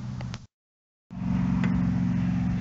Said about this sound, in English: Excuse the traffic noise out there.